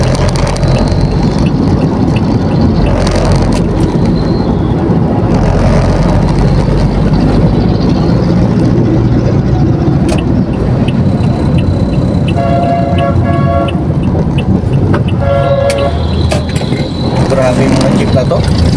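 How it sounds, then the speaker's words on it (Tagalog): Jeepney engines in busy traffic, a loud constant roar of motors with short horn toots around the middle and later, while people talk over it. "Grabe yung mga jeep na to"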